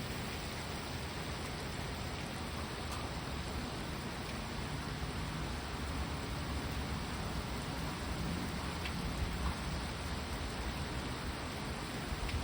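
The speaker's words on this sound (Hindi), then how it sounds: "बाहर बारिश हो रही है बहुत तेज़" Heavy rain falling outside a home, heard from a patio as a steady, even wash of noise that holds unchanged throughout with no voices.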